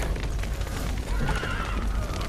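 Horses neigh in a burning stable in the video game Witcher 3, loud whinnies over a dense roar of fire and low rumbling, close and continuous for a couple of seconds.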